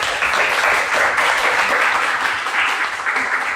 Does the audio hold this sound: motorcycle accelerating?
no